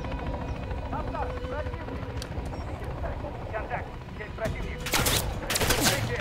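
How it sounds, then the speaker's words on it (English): Helicopter rotor noise drones beneath bursts of rapid gunfire and explosions in Call of Duty: Modern Warfare 3, with voices talking over the game action. "Destroy the Kony helicopters."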